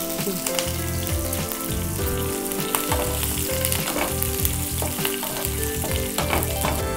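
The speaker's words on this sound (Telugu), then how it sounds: "తర్వాత పచ్చిమిర్చి వేస్తున్నా కొంచెం సిమ్లో పెట్టు" Green chillies sizzle and fry in hot oil in a pan while a curry is being prepared, giving a steady crackling hiss with sharp pops and occasional stirring scrapes and no talking.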